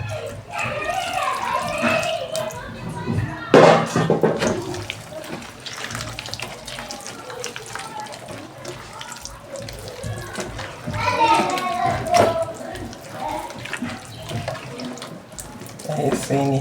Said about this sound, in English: So I'll still add another water inside.